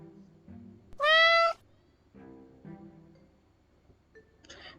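A cat gives one loud, clear meow close by, set between quieter stretches of faint background noise.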